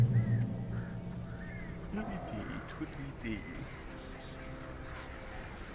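Birds squawk and caw in the video game Alan Wake, several harsh calls early on and scattered cries afterward, fairly faint beneath a person talking over a dark ambient game background.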